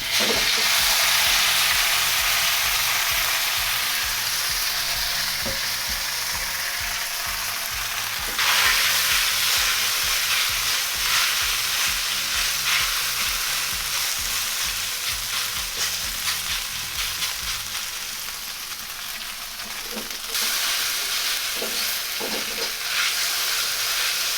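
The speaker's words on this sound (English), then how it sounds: "So I'm gonna turn my heat up to a high, and I'm just gonna drop in my noodles." Thick udon noodles fry and sizzle loudly in a pan over high heat, a steady dense crackle with stirring scrapes throughout and brief surges as the food is moved.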